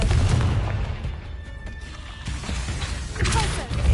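Confringo blast spells cast in the game Hogwarts Legacy, a booming impact at the start and another heavy thump near the end, with crackling effects between and a voice speaking over the action.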